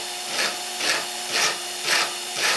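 Brass bar held in a drill spins against a 4.5 mm hole in a wooden block to round its end, giving a steady rubbing whir that swells into five evenly spaced grinding surges, close and fairly loud with no talk.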